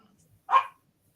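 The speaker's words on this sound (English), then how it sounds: "The dogs are about to go crazy." One short, sharp dog bark rings out from across the room in an otherwise quiet indoor space.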